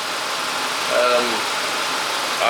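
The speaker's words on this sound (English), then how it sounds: "I got the Subaru running." A Subaru engine runs steadily in a smoky enclosed space, a continuous mid-pitched idle hum with a voice speaking briefly over it.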